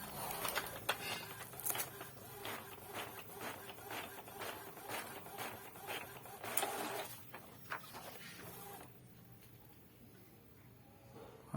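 An Epson printer runs a standard test page, its carriage clicking and whirring in rapid repeated passes at moderate volume before winding down into quieter mechanical sounds.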